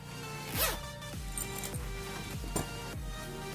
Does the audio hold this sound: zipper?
yes